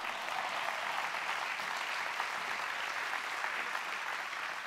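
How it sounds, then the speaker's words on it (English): A church congregation applauds on Easter Sunday, a steady wash of many hands clapping at moderate distance, continuous and even throughout. "You're going to clap, clap."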